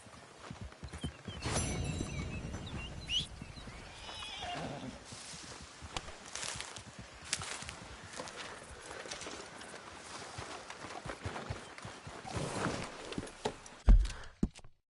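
Horse whinnying and hooves clip-clopping in Red Dead Redemption 2, a loud neigh near the start followed by steady hoofbeats and scattered game sounds throughout.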